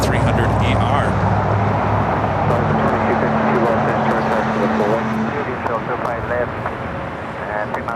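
A jet airliner accelerates down the runway at Los Angeles International Airport, a loud continuous engine roar with steady low drone tones, close and sustained throughout, with talk heard over it.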